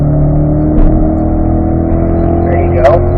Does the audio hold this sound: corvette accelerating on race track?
yes